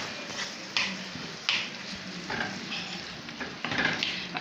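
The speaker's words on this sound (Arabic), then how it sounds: "انزلهم كده على اللحمه، واديها تقليبه كده" Minced meat with spices is stirred in a pan, giving a steady soft sizzle with several scraping strokes of a spoon at regular intervals, close up.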